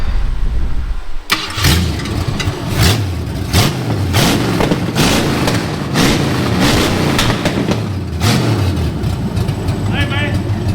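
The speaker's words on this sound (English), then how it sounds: "Alright, Bryce, fire it up, see what it sounds like." A 1972 Ford Maverick's engine cranks and catches abruptly, then settles into a loud, close, rumbling idle with uneven revs and a few throttle blips.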